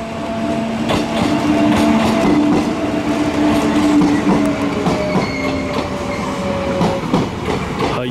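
A Kintetsu two-car electric train arrives at a station, rumbling steadily with clattering wheels and a faint high squeal, sustained and fairly loud throughout.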